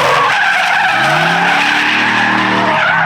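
A 1977 Chevy C10 drift truck slides at Apple Valley Speedway, its tires squealing in a loud, wavering, rising howl that fills the whole short stretch with no voices.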